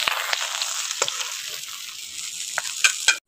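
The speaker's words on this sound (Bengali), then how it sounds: "আর মাছের মাথাটা পুরো যদি একটু লালচে লালচে করে" A rohu fish head sizzles in hot oil, frying until reddish, with steady crackling and a few sharp spatula scrapes and stirs against the pan, close and loud, no voices.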